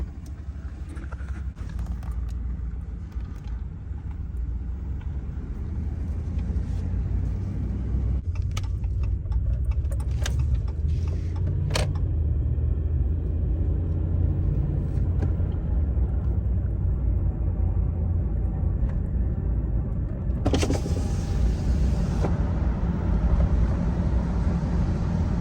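A RAM 1500 pickup with the 5.7 HEMI V8 cruising with its cylinder-deactivation system engaging, a steady low engine and road rumble heard from inside the cab, with a few light rattles and clicks.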